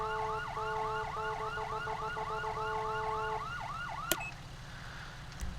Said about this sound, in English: The siren keeps going.